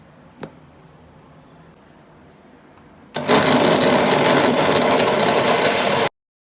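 A mixer grinder whirs loudly as it grinds dates into powder, the steady motor roar starting abruptly after a quiet pause and cutting off cleanly a few seconds later, close and alone.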